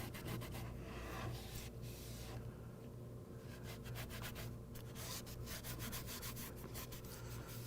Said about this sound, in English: now I can take the glue off the bottom of this board